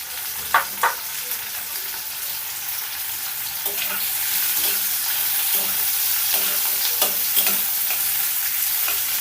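Small chopped onions frying with panch phoron in a pan for Odia simba rai, a steady sizzle with repeated clicking spoon stirs and scrapes, a few sharp knocks early on, and no talk.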